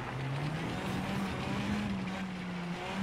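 A rally car engine in the WRC Generations video game drones at a steady, strained pitch, moderately loud and alone with no talk, making a rough, unhealthy noise.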